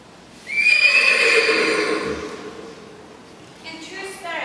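A horse borrowed from a farmer gives a loud, drawn-out whinny close by, fading into breathy snorts, followed by faint hoof clip-clops at the end.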